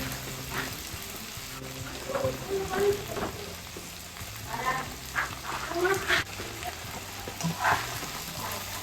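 Food sizzles and crackles as it fries in a pan, a close, uneven bubbling hiss that swells and fades, while music plays underneath.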